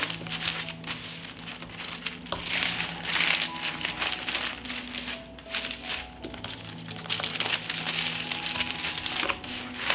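Baking paper crinkling and crackling as it is folded and twisted around strips of bacon, a close, steady rustle with louder bursts, alone without talk.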